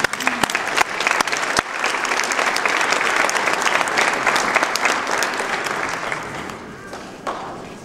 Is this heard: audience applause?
yes